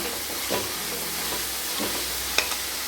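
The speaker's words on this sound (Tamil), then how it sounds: "வெங்காயம் நமக்கு நல்லா வதங்கி வரணும்." Onions and green chilies sautéing in oil in a pan for kuzhi paniyaram: a low, even sizzle with a few soft stirring scrapes and one sharp clink near the end, close by and without speech.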